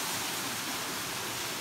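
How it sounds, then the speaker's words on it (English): Waterfall on a hike near Bandy Creek, a steady broadband rushing roar of falling water, even and continuous, moderately distant with no voices. "there's a waterfall"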